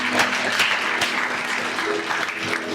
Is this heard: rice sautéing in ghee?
no